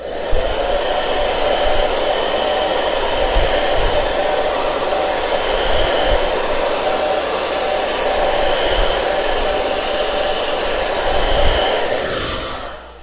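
A hair dryer drying chalk paste on a craft stencil runs as a loud, steady, close whoosh for the whole stretch and cuts off at the very end, with no speech.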